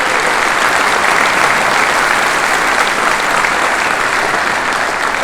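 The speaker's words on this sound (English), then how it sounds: "So I would like to give them a little round of applause if you don't mind." Steady, dense applause from a full audience at a university athletic Hall of Fame induction ceremony, loud and sustained without a break, with no talk over it.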